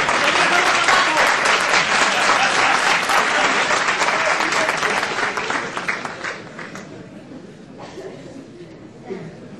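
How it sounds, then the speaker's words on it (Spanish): A large audience at the RetroMadrid 2010 opening ceremony breaks into loud, dense applause that holds steady for several seconds, then thins out and fades to scattered claps and murmuring. "Un aplauso."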